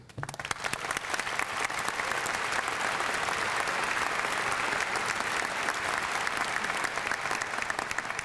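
A convocation audience at a freshman ceremony breaks into sustained applause to welcome the provost, a dense, even roar of clapping from a large crowd that rises quickly and holds steady throughout.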